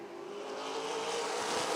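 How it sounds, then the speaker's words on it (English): NASCAR late model race cars roar as they accelerate at the green flag on an oval speedway, a loud blended engine drone that swells steadily over a brief moment, heard without speech. "Here they come. Green flag, and we're racing."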